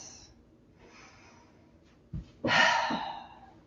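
Deep yoga breaths, a faint exhale followed by a strong, close inhale and a breathy release near the end, with no speech.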